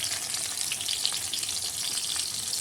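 Masala fries with tomatoes in a hot pan, producing a dense, loud, even sizzle heard close and alone for a few seconds.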